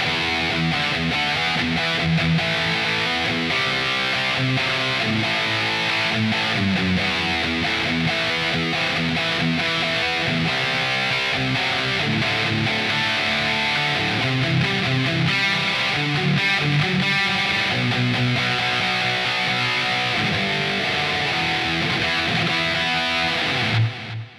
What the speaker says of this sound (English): now we're going to do the humbuckers in the modern position with some heavy distortion